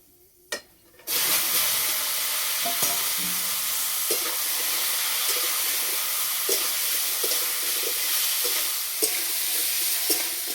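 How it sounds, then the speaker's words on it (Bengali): Bengali five-spice tempering dropped into hot oil with pumpkin, a sudden loud sizzle that bursts in after a short quiet lead-in and holds steady, with faint stirring ticks, close and without speech. "এই তেলের মধ্যে দেবো 5 ফোড়ন, কুমড়ো"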